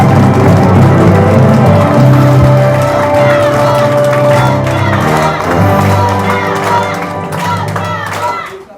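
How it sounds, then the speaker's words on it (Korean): A crowd at a Democratic Party candidate's outdoor campaign rally gives loud, steady cheering and clapping that stays dense throughout, with shouts mixed in and a voice over a sound system partly audible. "큰 함성과 박수"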